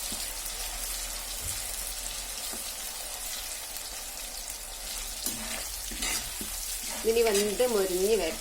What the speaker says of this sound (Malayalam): ഒരു മീഡിയം ഫ്ലെയിമിലാണ് നമ്മളിത് വറുത്തെടുക്കേണ്ടത്